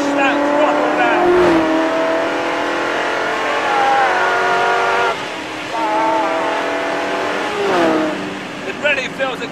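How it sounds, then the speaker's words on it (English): South African-made Superformance GT40 sports car accelerating hard at full throttle through a long second-gear corner, a loud, continuous close engine roar with rising harmonic pitch sweeps, briefly dipping near the middle, with faint talk mixed in. "And then mash that throttle down."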